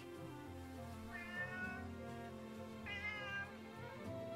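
A cat in the game Octopath Traveler 2 gives two clear meows over a soft musical background, fairly quiet and with no speech.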